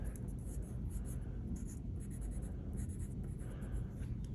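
A pen scratches across paper up close as numbers and labels are written on a graph, in short bursts of scraping strokes with brief pauses between them, soft and with no voices.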